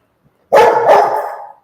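A single close dog bark, drawn out into a short howling yowl that fades after about a second.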